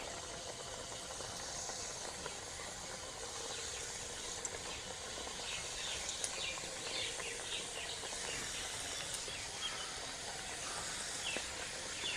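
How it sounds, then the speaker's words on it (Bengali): Mini singaras frying in medium-hot oil: a continuous, fairly faint crackling sizzle with steady bubbling, no talk over it. "এবার সিঙ্গারাগুলো আমি দিয়ে দেব সিঙ্গারা ভাজতে গেলে কিন্তু মিডিয়াম তেল গরম করতে হবে"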